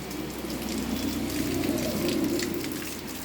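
Steady rain patter and splashing in a garden, close and continuous, with no voices.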